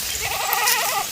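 Goats and sheep bleat together on a soybean farm, several overlapping calls wavering steadily over a short stretch against a breezy outdoor background.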